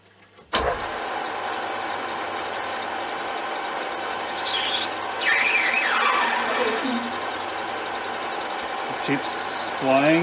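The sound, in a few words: lathe cutting brass without coolant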